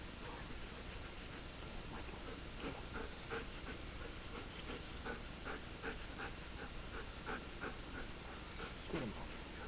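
A dog pants and whimpers faintly at home, with rhythmic breathy huffs and a short whine near the end over a steady hiss of background noise.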